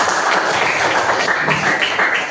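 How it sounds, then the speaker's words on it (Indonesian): A classroom group claps for the first group, a loud, dense patter of hands that keeps going throughout. "tepuk tangan kelompok pertama"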